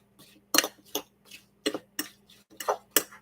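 A utensil stirs a sugar and cinnamon mixture in a bowl: several quiet, separate clinks and scrapes arrive in an uneven rhythm, close by and with no talking.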